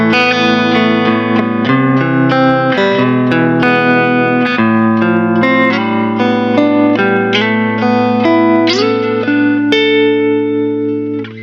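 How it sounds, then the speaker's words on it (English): Electric guitar through a Mixwave Milkman Creamer amp simulator plugin with reverb, playing a melodic line of sustained notes and chords with reverb tails, steady and fairly loud, no voices. "Let's just turn the reverb on."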